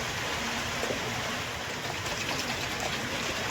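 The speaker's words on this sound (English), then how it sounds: "I'm gonna throw this broth in" Broth is poured into a pot holding a blended guajillo pepper, garlic and onion mixture, a continuous dense rushing, splashing pour that stays steady and close for a few seconds.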